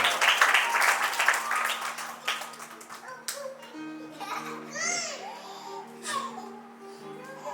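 At a devotional music evening, a short burst of audience clapping welcomes a guest, then fades into quieter murmuring, children's voices and soft tones.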